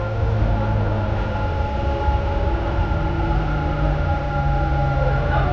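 Dubai Metro train rolling along from the front carriage, giving a steady, loud rumble with a sustained tonal whine and no breaks across the stretch.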